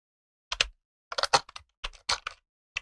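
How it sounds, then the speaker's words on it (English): Typing on a computer keyboard in short bursts of crisp, close clicks with brief pauses between groups of keystrokes, alone without talk. "Oh, this keyboard."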